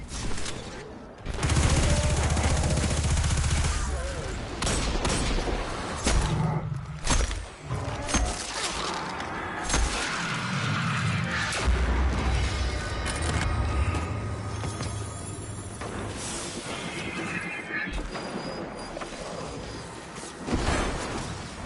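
Gunfire in a video game, with bursts of rapid shots and heavy recoil, loud and dense, mixed with mechanical clatter and whooshes throughout.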